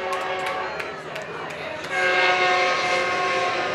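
A train horn sounds at a college softball game between La Verne and Pomona-Pitzer, a long steady blast rising louder midway and carrying over the crowd and field noise.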